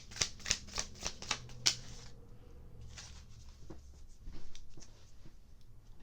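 Playing cards being shuffled in a quick run of crisp riffling snaps, then a single card drawn and laid down with a soft slide, close and clear with no talk.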